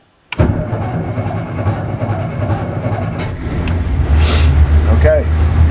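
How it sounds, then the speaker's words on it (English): A Mitsubishi Lancer engine cranks and catches after a silent moment, then settles into a close, steady idle that grows slightly louder toward the end. "you can hear hopefully the engine going. It started."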